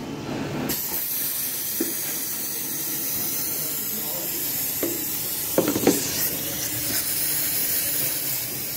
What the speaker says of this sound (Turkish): Bir hava vuralım, bir daha sprey vuralım.